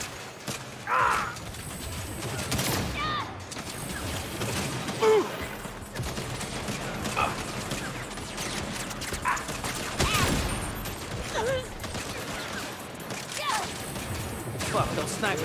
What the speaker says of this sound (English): those snipers are pinning us down